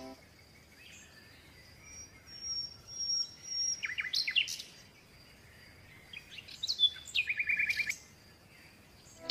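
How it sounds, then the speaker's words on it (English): Parrot calls come from nearby in two bursts of sharp, rapid squawks and chattering notes, the first starting around a third of the way in and the second nearer the end, over faint background hiss. "P for parrot."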